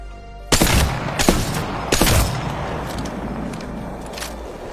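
A Longbow rifle is hip fired at close range at a target in Apex Legends training mode, giving three loud, booming shots in the first two seconds, then fainter game noise.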